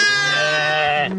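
A sheep or lamb bleats inside a tent with a flock of Aït Atta herders, one long, loud, wavering bleat lasting about a second, close by and alone.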